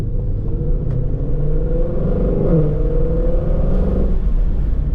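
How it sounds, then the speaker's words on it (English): A 2021 Ford Shelby GT500 pulls away under light throttle, its deep engine rumble rising gently and steadily from inside the cabin, with no one talking. "Let's do just a light acceleration here."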